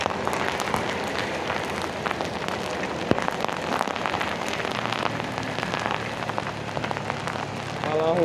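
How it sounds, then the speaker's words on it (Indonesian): Heavy rain pours steadily around a motorcycle rider on a Jakarta city street, a dense, continuous hiss and patter close to the handlebar-mounted mic, with no talking. "hujannya bertambah lebat lagi"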